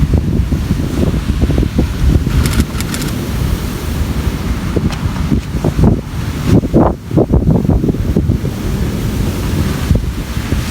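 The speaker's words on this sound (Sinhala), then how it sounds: "හලාවත මුහුද." Sea waves roll and break at Halawatha beach in Chilaw, Sri Lanka, in a constant loud wash of surf with heavy wind buffeting the microphone throughout and no talking.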